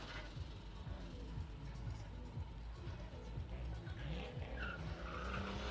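Turbocharged Nissan 240 drift car at a drift test-and-tune day, its engine droning steadily with tire squeal and skidding throughout, plus brief boost chirps and whooshes near the end.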